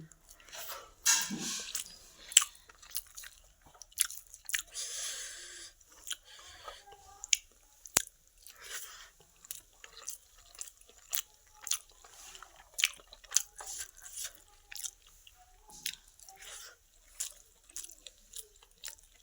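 Someone eating hot rice mixed with raw tomato posto by hand, quiet close squishes, smacks and soft chewing sounds scattered irregularly through a mostly silent room.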